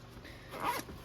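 A zipper on a single magazine pouch is pulled once in a short, close, quiet rasp lasting about a second.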